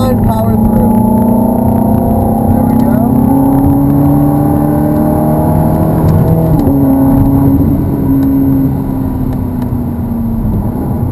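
Ferrari F430 accelerating on a race circuit, a loud, steady engine drone whose pitch climbs through gears from inside the car, with someone talking over it throughout.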